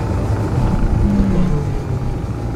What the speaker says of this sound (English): Those engines are so cool